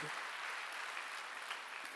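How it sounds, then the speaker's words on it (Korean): Congregation applause at a Korean church Wednesday worship service, a steady, dense wash of clapping filling the whole moment at moderate distance, with no clear voice over it. "박수치라 얘기야."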